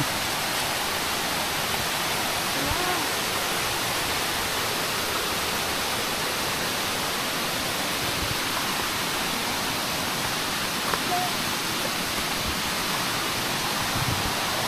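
Water pours steadily at Bigaho Falls, a small waterfall in Palawan, as a constant broadband rushing roar close by with no voices over it.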